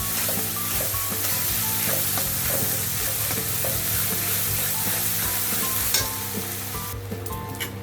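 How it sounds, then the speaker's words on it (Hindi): Ground masala spice paste fries in a pan with a continuous hissing sizzle and occasional stirring, under a steady musical backing, until the sound thins out abruptly near the end. "जो मसाला हमने फ्राई करके लिया था वही मसाला हम डाल दिया है पेस्ट करके। ये डाल के अच्छे से भूनना है।"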